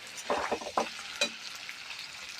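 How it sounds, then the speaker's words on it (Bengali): Chicken kosha sizzles steadily in a pan, with a few stirring scrapes rising over a continuous frying hiss; no one speaks. "চিকেন কষা হচ্ছে বন্ধুরা।"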